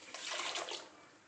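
Ground coconut paste poured into a pan for a fish curry, giving a brief wet rushing pour that swells and then fades over about a second, fairly quiet and close.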